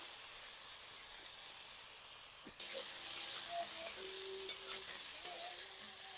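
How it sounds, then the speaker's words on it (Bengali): Steady oily sizzle of potatoes frying in a pan, a continuous hiss with a few faint clinks and stirring sounds, close by. "আলুটা একটু ভালো করে ভেজে নেব"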